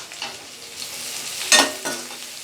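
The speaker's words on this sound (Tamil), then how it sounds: "ரெண்டு நிமிஷம் வதக்குனதும் பொடி பொடியாக நறுக்கின ஒரே ஒரு பெரிய வெங்காயத்தை சேர்த்துக்கலாம்." Chopped onion hits hot oil in a pan and is stirred for egg Manchurian, a soft sizzle with a sharp scrape of a spatula midway and a brief stirring clatter after, no talk.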